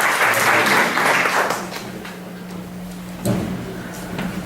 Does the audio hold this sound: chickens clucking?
no